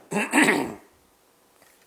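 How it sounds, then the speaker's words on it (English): A person clears their throat once, a short, rough burst close by, followed by near silence. "Forgive me for clearing my throat."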